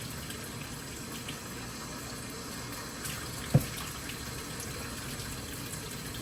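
Tap water runs steadily into a sink while vegetables are rinsed, a continuous low splashing flow with one brief knock partway through.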